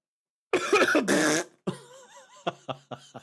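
Two loud, harsh coughs up close, then a few shorter throat-clearing bursts and a brief murmur.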